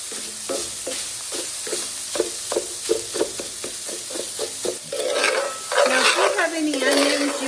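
Hamburger meat frying in a pan as a spatula chops it into small pieces, rapid rhythmic tapping and scraping over a steady sizzle, then the sizzle swells louder as stirring continues, close and with no voices.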